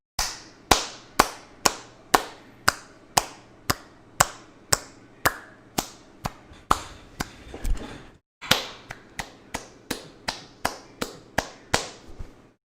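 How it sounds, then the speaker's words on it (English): One person claps slowly and steadily, about two dozen sharp, close hand claps spaced roughly half a second apart, with a brief pause partway through and no voices. "That deserved a standing applause."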